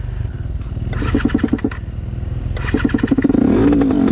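A motorcycle on a trail ride sputters, cranks and then catches, its engine rising into a steady rev toward the end, close and loud with brief rhythmic bursts before firing up.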